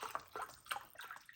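Chicken broth is poured from a can into a baking dish, a soft, close splashing and trickling with uneven bursts of liquid, fairly quiet and without talk.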